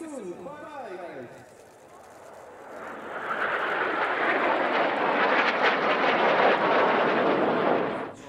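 Airshow display team aircraft sweep in for the finale at Radom Airshow, a faint voice at first giving way to a swelling engine roar that builds and holds loudly for several seconds before cutting off.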